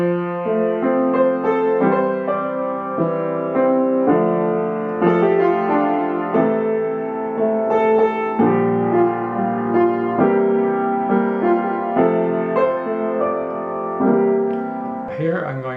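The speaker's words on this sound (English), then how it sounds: "many arrangers will take these bass notes and place harmony for each one of these notes, and it would sound like this" Bass line harmonized with a full chord on every note, played at a steady moderate pace as a sequence of sustained chords, each change clearly struck, with no voices.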